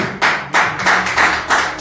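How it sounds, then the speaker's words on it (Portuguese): A church congregation claps in rhythmic unison, several sharp broadband bursts in quick regular succession, fairly loud and close. "Aplauda o nome do Senhor."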